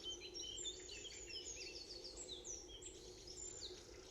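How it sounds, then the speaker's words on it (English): Faint, distant birdsong in still pre-dawn air: scattered high chirps and short trilled phrases from several birds over a low steady hum, with no talking. "You can hear the birds waking up."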